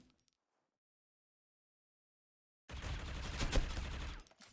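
Sustained burst of gunfire from the Critical Ops mobile shooter during a tournament match, starting abruptly after a stretch of near silence and running dense and loud for under two seconds.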